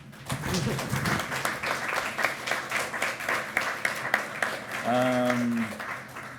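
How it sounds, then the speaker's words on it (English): Audience applause for a panel at an EXPO 2025 EU session on critical raw materials, steady clapping heard under a speaker's voice, with a brief tonal sound near the end. "Thank you so much to the panel. Big applause."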